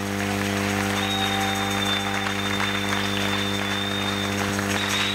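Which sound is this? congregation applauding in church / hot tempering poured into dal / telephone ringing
congregation applauding in church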